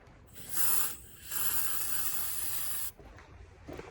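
An aerosol cleaner can sprays off diesel fuel on a John Deere 4955 tractor in two loud, steady hissing bursts, the second one longer, followed by faint handling noises.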